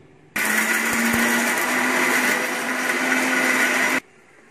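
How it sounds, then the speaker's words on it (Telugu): A mixer grinder coarsely grinds roasted tempering spices with tamarind in one loud, steady whirring run of about three and a half seconds, starting and stopping abruptly, close by with no talk. "పోపులు కచ్చపిచ్చ ఆడుకున్నాం, బాగా మెత్తగా ఆడుకోకూడదు"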